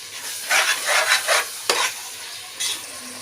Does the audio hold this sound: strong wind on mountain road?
no